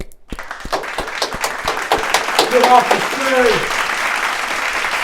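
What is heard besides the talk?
audience round of applause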